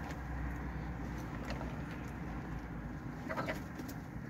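A tumbler pigeon on the ground gives soft, low cooing, faint against a quiet background, with a few short higher notes scattered throughout.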